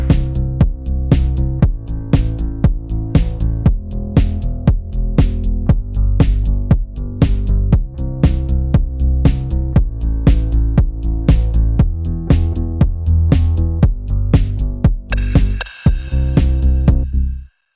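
Minimoog-style sawtooth bass from Arturia Mini V3 playing with a drum groove, sidechained so the bass pumps around steady kicks and hats, loud and continuous, with a brief dropout and cymbal swell near the end, for a song recreation.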